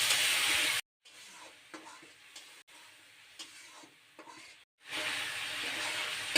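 Ground spice paste is stirred and fried with browned potatoes for a jackfruit and prawn curry, giving soft scraping stirs over a low sizzle, with loud hissing bursts at the start and end and quieter stirring between.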